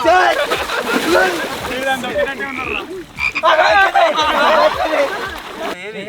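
Frogs croak repeatedly in a water-filled pool, a dense chorus of rapid, overlapping calls close by, with occasional splashes and people talking over them.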